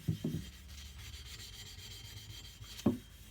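Close, scratchy rubbing strokes of dirt being scrubbed off the base of a Stanley Bailey No. 6 fore plane, a couple of quick scrapes at the start and another near the end.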